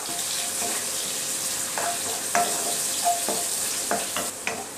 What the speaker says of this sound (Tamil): வெங்காயத்தை சேர்த்துட்டு நல்லா வதக்கிடலாம்.